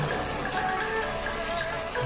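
Hot water poured into a cooking pot of fried meat with garlic paste and oil: a steady, close, splashing gush of running water that continues without a break.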